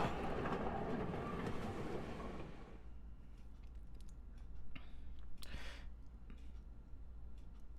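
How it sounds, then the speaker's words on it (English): A train pulling in at its final stop in the Higurashi visual novel game, a loud rumbling roar that fades into quieter clattering and rattling of the carriages, with no voices. "It seems the train had reached its final stop."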